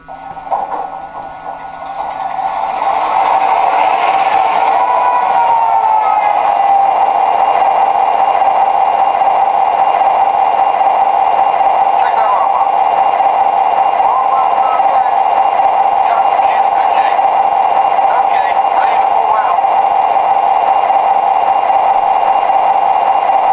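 A model train diesel locomotive's sound system plays its startup sequence, then settles into a steady, loud droning idle with a persistent hum that continues unchanged.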